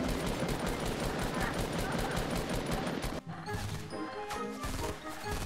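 Rapid video game gunfire rattles in a dense, fast automatic burst for about three seconds, then gives way to quieter scattered game sounds and faint shots.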